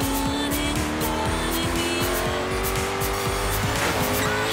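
A 1500-horsepower car in Forza Horizon 3 drifts sideways through the Outback, its engine droning steadily under a continuous high tire squeal that holds loud and close throughout.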